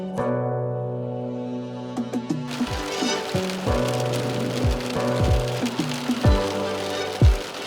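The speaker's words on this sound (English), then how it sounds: "why am I going fishing in the pouring rain?" Steady heavy rain falling during a fishing trip, a constant broadband hiss of drops striking surfaces, with repeated low thumps and knocks standing out over the downpour.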